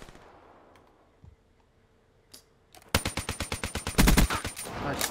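Rapid automatic gunfire in the Call of Duty Black Ops 3 video game rattles out in a quick even burst after faint background sounds, close and loud, with a heavier cluster of shots near the end.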